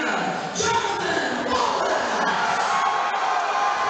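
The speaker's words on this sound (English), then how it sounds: "Jonathan Wallace with the obvious crowd behind him." A crowd at a GE Fights amateur MMA event cheers and shouts for a 185-pound fighter from Terre Haute, Indiana, as he is introduced: a loud, dense, continuous roar with whoops throughout.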